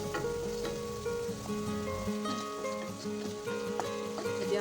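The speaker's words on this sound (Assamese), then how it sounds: "এতিয়া মই পিচি লোৱা মছলাখিনি দি দিলোঁ" Ground spice paste sizzles and crackles in hot oil in a pan for a fish curry, a steady bright frying hiss with some tonal background sound underneath.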